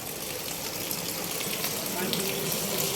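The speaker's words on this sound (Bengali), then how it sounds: "এই ঘরের উপর বৃষ্টি পড়তেছে তাই তো বৃষ্টির পানি পড়তেছে দেখেন" Water pours steadily onto a house roof like a rain shower, making a dense, even rushing splash that grows slightly louder toward the end.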